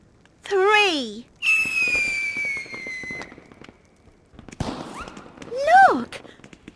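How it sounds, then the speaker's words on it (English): Fireworks bursting after stars are thrown into a fire, heard as whistling rising and falling tones with crackling bursts across several seconds, loud and close, in two main volleys separated by a brief lull. "Fireworks!"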